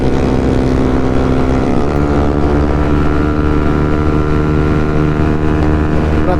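A Honda CBR motorcycle on a night ride gives off a loud, steady engine drone with a dense, throaty tone. Around the two-second mark the pitch shifts down, and heavy wind noise carries through the whole stretch.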